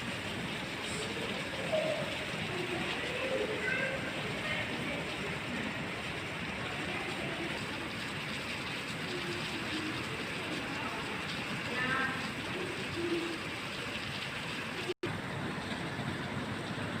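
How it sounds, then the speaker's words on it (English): Heavy rain pours down in a rural setting at the start of planting season, a steady, dense hiss that holds at an even loudness throughout, with no voices. "Now the rain starts pouring."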